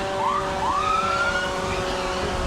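An ambulance siren wails at a street parade, rising sweeps over a steady background of crowd and traffic noise, moderately near and continuous.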